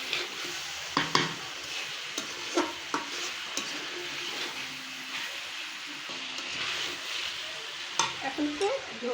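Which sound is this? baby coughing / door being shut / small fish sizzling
small fish sizzling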